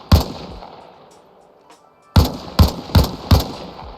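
M16 rifle fire in a video game aimed at a helicopter's rotors: one loud close shot, a pause, then four sharp shots in quick succession, each with a booming echo tail.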